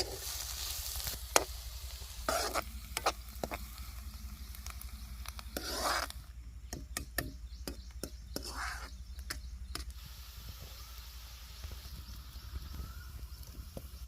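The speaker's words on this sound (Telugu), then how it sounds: "ఉల్లిపాయలు ఎర్రగా వేగేంత వరకు వేగనిద్దామండి" Onions frying in a pan while cooking outdoors in a garden, a soft continuous sizzle with repeated scraping stirs of a spatula, moderately close and fairly quiet.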